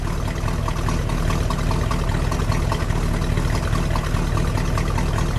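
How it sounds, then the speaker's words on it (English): A 1968 Pontiac Grand Prix two-door hardtop idles steadily, its V8 engine giving a low, even rumble that stays constant throughout with no talk over it. "let me just let you listen to that idle a little longer."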